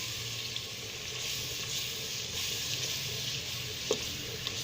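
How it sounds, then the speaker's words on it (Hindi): Spices, green chillies and tomatoes frying in oil for an aloo moongre sabzi, a steady soft sizzle with faint stirring clicks throughout. "अब इसको डाल के हमने अच्छी तरह मसाला भून लेना है।"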